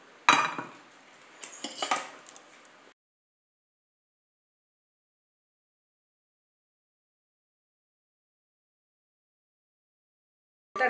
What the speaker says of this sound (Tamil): இப்போ இதை வடிகட்டிடலாம்.